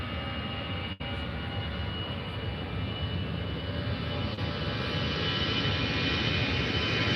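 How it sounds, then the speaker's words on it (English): An EasyJet Airbus A320 jet departs Faro airport with a steady, loud engine roar that builds slightly and holds, heard from a distance with no talk. "And here goes now the EasyJet A320 to Paris Orly."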